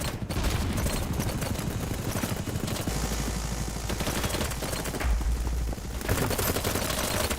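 Rapid automatic gunfire from the video game Battlebit, dense overlapping bursts of shots that keep going almost without a break, fairly loud and close with no talking over them.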